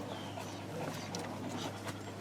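A frightened rescue dog named Tango pants quickly and lets out soft, high whimpers, faint and fairly close, over a low steady hum.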